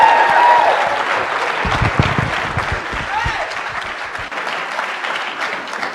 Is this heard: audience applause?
yes